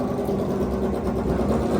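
Motorbike engines on a Tokyo street at night, a steady close droning rumble running without pause and without talk.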